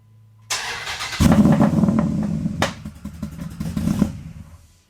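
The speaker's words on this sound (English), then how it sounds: "let's just get a nice little cold start. Listen to this thing purr." A 6.1 Hemi Ram pickup engine with a new exhaust cranks and catches on a cold start, then idles roughly and loudly with clattering, uneven revs before shutting off.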